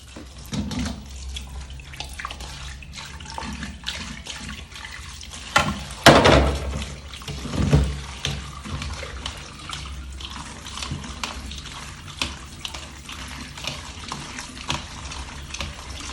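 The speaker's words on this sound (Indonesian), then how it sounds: "Dicuci bersih" Fresh bamboo shoots are rinsed under a running kitchen tap, with a steady stream of water and occasional louder splashes and clatters as the shoots are handled.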